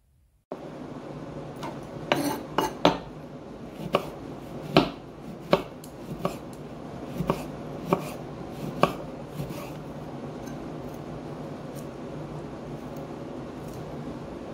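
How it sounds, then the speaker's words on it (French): A knife roughly cuts oranges and strips away their peel on a board, giving a quiet run of irregular sharp knocks and chops, clustered then spaced out, over a faint steady background. "Je coupe les oranges grossièrement parce que je n'ai pas besoin de les couper hyper bien."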